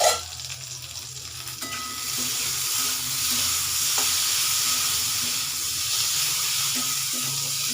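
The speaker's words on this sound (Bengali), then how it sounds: "ঢাকনাটা খুলে একটু নাড়িয়ে দেব।" Eggplant frying in a pan being stirred, a steady, close sizzle and hiss with occasional scrapes of the spoon against the pan.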